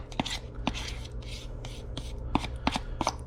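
A big tablespoon scrapes cooking residue across a grill surface in a handful of short, close scratching strokes, spaced irregularly over a low background hum, with faint breathy voice sounds between the strokes.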